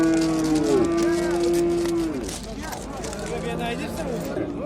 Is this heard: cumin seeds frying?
no